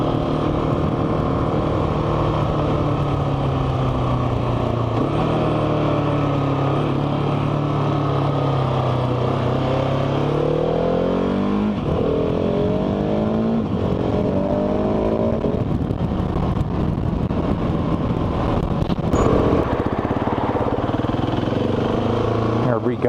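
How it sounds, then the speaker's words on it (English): Car engine revving and accelerating along a residential street at night, rising and falling in pitch as it speeds past, loud and continuous with a burst of acceleration midway and people talking over it. "can you not speed up and down the street like that?"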